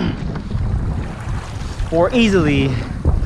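Strong, gusty wind of about 25 miles per hour rumbles against the microphone while paddling a kayak on a Texas creek, with someone talking over it.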